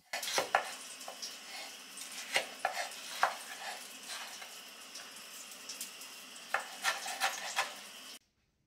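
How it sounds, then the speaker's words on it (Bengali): A tomato is cut for curry while eggplant fries nearby, with irregular sharp knife taps and soft cuts over a faint background sizzle, ending abruptly. "আর তরকারির জন্য টমেটোটা কেটে রাখছি"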